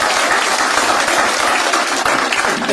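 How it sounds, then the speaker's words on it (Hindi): An audience at a stand-up comedy show breaks into loud, steady applause, a dense wash of many hands clapping together throughout, close and continuous without pause. "एक बार जोरदार ताली हो जाए आपके लिए भी।"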